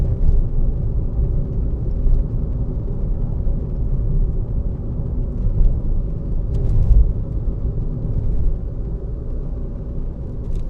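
Car driving uphill on the B803 road near Coatbridge, a steady low engine and road rumble heard from inside, swelling slightly as the vehicle accelerates, with no talk.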